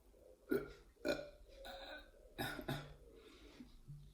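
Repeated burps from a person being treated for R-CPD, the no-burp condition, at lunchtime after sips of a drink: several short, throaty eructations spaced across the moment, close and fairly loud, with no speech.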